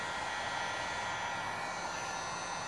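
A heat gun blows hot air onto the adhesive behind a badge on a Ford Escape SVT, producing a steady, even whooshing roar with no breaks, fairly close and unchanging.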